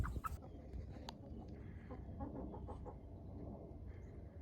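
A mother hen with five fully feathered chicks learning to roost clucks softly at a moderate distance, with scattered short calls over a steady low background.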